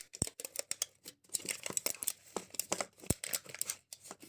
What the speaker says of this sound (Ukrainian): тепер розпаковка. Дуже зручно відкривається.